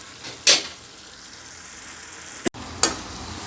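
Eggplant thokku frying in a pan over a low flame, a steady soft sizzle broken by three sharp stirring scrapes, close and with no talk.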